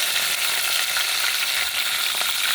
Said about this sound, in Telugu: ఇది కొంచెము పుదీనా ఫ్రై అయితే సరిపోతుంది